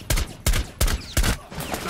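Four sharp sniper rifle shots in Rainbow Six Siege, fired at a bomb-defusal mine, each a loud crack with a short decaying tail, spaced roughly a third of a second apart with no talk.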